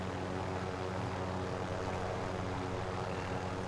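Helicopter in Call of Duty Warzone fitted with a horn, a steady dense rotor and engine drone holding at an even level throughout, with no voices over it.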